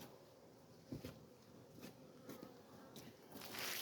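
Honeybees hum faintly and steadily close by at a hive during feeding, with a few soft clicks and rustles scattered across the quiet buzzing.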